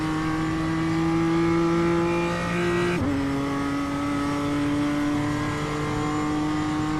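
A BMW M2 engine in the iRacing simulator climbs in pitch under throttle, then drops sharply with a gear shift near the midpoint and climbs again, loud, close and continuous, with no talking.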